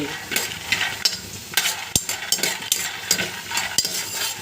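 Beans fry in a pan for a peanut-powder bean fry, a soft steady sizzle broken by sharp scrapes and clacks of a spoon stirring against the metal, close with no talk.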